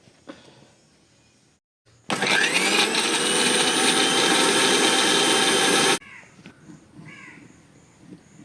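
A kitchen mixer grinder grinds ginger, garlic and salt, starting abruptly with a loud steady whirring roar that runs about four seconds before cutting off, between quieter background noises and a bird cawing.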